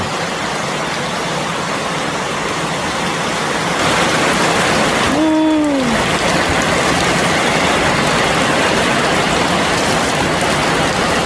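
Steady rain falls at a rural home after a long hot spell, a dense continuous hiss that grows heavier partway through, with a brief rising tonal sound briefly cutting through the downpour.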